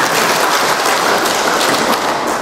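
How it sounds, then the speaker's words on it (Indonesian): Dense, loud applause from an assembly of district heads, village chiefs and health centre leaders in NTT, a continuous hiss of many hands with no voices over it. "Tepuk tangan buat kita semua dulu."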